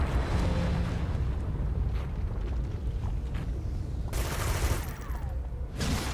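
Gunfire aimed at a player character in the online superhero game City of Heroes: a steady game soundscape broken near the end by two loud bursts of crackling shots.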